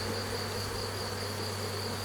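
Honeybees at a hive in a French apiary buzz in a continuous, even drone, fairly faint and unbroken, with no voices over it.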